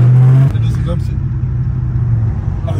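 Loud, throaty engine of a modified car revving hard during burnouts, a steady low rumble that holds after an opening surge, with people talking over it.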